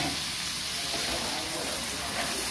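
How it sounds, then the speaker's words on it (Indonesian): Steady sizzling hiss of water poured into a hot frying pan while cooking Indonesian telur balado, a continuous close fizz with no pauses. "Nanti ini kita kasih air sedikit aja ya Bun"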